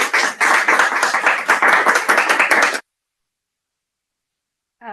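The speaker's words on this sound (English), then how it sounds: "A big round of applause for Simran." Loud, dense applause from a Toastmasters club meeting, many hands clapping steadily for about three seconds before stopping abruptly, then silence and the start of a voice.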